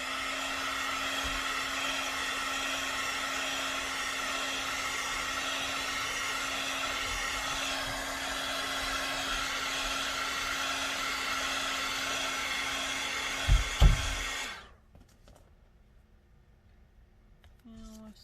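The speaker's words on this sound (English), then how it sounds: "I need to hit it with my dryer so the glue doesn't stick to everything." A handheld hair dryer blows steadily on glued paper during a craft project, a loud continuous whooshing hum with a steady tone that runs for about fourteen seconds before switching off, followed by faint handling sounds.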